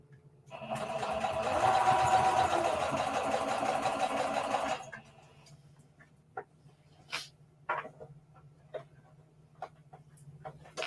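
A sewing machine stitches a reversible bucket hat in one steady, close run lasting about four seconds. Scattered light clicks and taps from handling the fabric follow once it stops.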